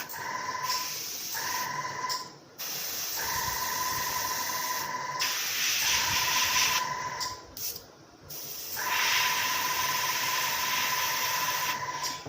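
An airbrush or spray gun paints a 1/48 Mitsubishi A6M2 Zero model, loud hissing bursts starting and stopping repeatedly, with a steady compressor-like tone running during each spray.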